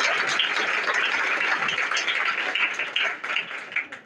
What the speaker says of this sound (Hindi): आज ये तालियां आपके लिए बज रही हैं